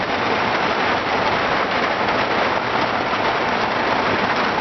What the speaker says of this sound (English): It is pouring down rain. Really hard. Have some serious lightning and thunder.